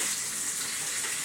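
Water runs steadily from a shower fed by a just-repaired Stiebel Eltron water heater, a continuous broadband hiss with no pauses, fairly close and alone without talk.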